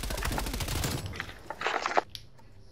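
Rapid MP5 submachine gun fire in a video game, a dense burst of shots up front that tapers into a few scattered single cracks and fades out.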